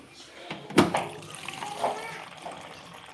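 Water splashes and trickles as it is poured for a child at home, a few soft pours and clinks close by, with people talking in the background.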